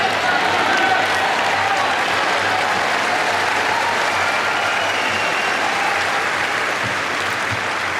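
Centre Court crowd at Wimbledon applauding steadily and encouraging Italian player Jasmine Paolini during the ladies' final, a dense, sustained wash of clapping and cheering with no break.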